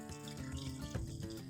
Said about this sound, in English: I'm going to dump all that water off my potatoes